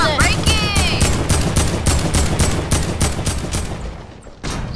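Rapid sustained minigun fire in Fortnite, a dense continuous burst of shots running nearly five seconds, loud and close, with a brief drop near the end before firing resumes.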